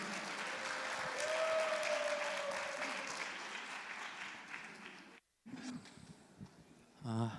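A conference audience in a hall claps warmly, a dense sustained applause that fills the room for several seconds before fading, followed by a voice beginning to speak.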